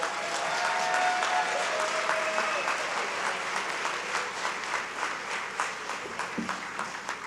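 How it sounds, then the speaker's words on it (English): Sustained audience applause fills a Valentine's gala evening at the Ritz, dense and steady throughout, thinning slightly toward the end with a few scattered voices underneath. "Let's give her a wonderful round of applause."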